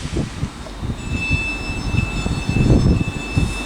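A passenger train pulls into Haymarket station in Edinburgh, where a Transpennine Express service to Manchester Airport is arriving; a loud, rumbling rush of wheels and engine rises and swells, with a thin high whine running steadily above it.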